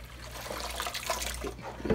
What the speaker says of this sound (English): So now I'm going to rinse it with clear water.